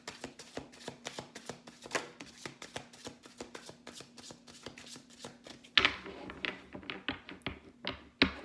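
Tarot cards are shuffled by hand in a quick run of crisp riffling taps, close and fairly quiet, ending in a few louder slaps and snaps as the deck is squared.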